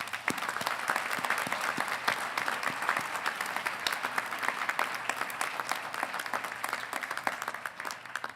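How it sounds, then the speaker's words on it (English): Sustained, dense applause from an audience at a fall 2021 university commencement ceremony for the College of Agricultural Sciences, steady and loud throughout with no pauses. "So let's have a round of applause."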